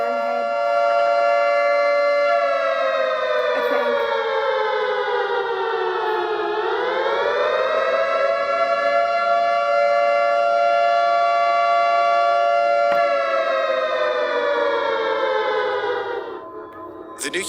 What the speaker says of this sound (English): nuclear siren is by far one of the most unsettling sounds to hear